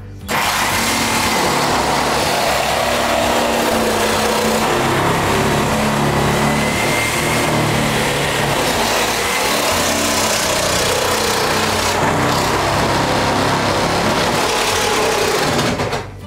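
A saw rips continuously through an acrylic shower stall for about sixteen seconds, producing a loud, unbroken, harsh buzzing roar up close with no talking over it.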